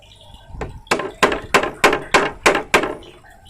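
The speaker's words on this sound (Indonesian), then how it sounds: "Ini bagian tengah kita pahat" Seven evenly spaced mallet strikes drive a chisel into a piece of wood for a gazebo made from scrap materials, each a sharp, close woody knock, with no talking.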